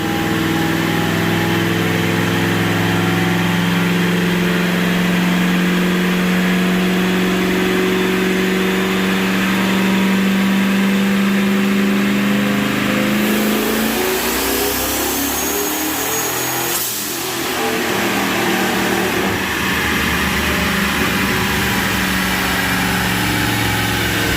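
A turbocharged two-valve Ford F150 running E85 on a dyno at about 10 pounds of boost roars loud and steady, its engine note climbing in a long sustained pull before dropping off sharply near the end.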